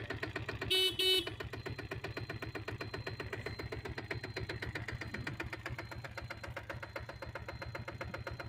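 Two quick honks of a diesel Bullet motorcycle's horn ring out near the start over a steadily idling engine, which keeps chugging afterward.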